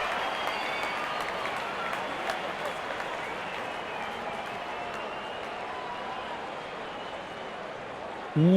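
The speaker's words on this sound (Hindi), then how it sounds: "जब अपोनेंट फैंस भी ताली बजा दे तो समझ जाइए बैटिंग कमाल की हुई है" A cricket crowd at an RCB vs KKR IPL match applauds a boundary four, steady distant clapping spread across the stands, fairly faint and continuous throughout, with a sudden louder burst right at the end.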